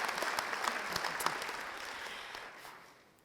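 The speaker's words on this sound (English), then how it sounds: "another round of applause" Faint, distant applause from an audience at a career and technical center dedication ceremony patters evenly, then thins and fades out near the end.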